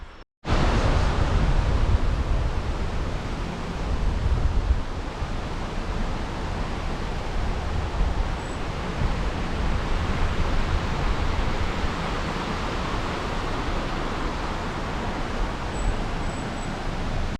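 Steady broadband rushing water of a creek in Great Smoky Mountains National Park, continuous and fairly loud throughout, with no voices.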